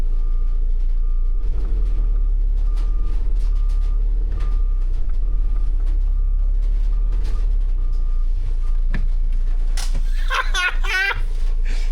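An Amazon Ford Transit van reversing, its beeper sounding in steady evenly spaced pips over a low engine rumble, followed near the end by a person laughing close by.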